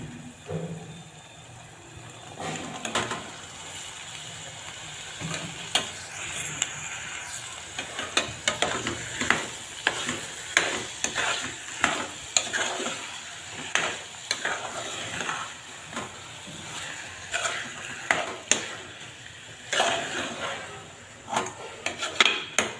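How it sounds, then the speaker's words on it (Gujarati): Soaked rajma kidney beans are stirred into frying gravy in a pan, with a steady sizzle under repeated close scraping and clinking of a spoon against metal throughout. "બધું સારી રીતે મિક્સ કરીને એકથી બે મિનિટ સુધી ચલાવી લેવું જેથી મસાલા બરાબર ચડી જાય"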